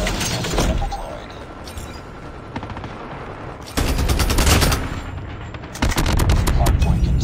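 Rapid automatic gunfire from a sentry gun in a Call of Duty match, dense rattling bursts that break off and resume amid other game combat sounds, with voices talking over the shooting.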